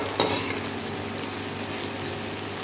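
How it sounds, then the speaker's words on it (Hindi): Cluster beans (guar phali) fry in hot oil, a steady close sizzle and crackle with a couple of sharper pops, no voices over it. "ये फलियाँ हमारी जो तली जा रही हैं, इसे अब हमने 2 से 3 मिनट और फ्राई करनी है"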